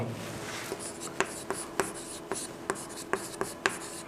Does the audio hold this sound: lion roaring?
no